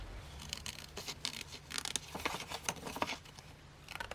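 Scissors snipping along a paper pattern to make a pocket insert for a planner, a close run of quick irregular crisp cuts and rustles with brief pauses, no talking.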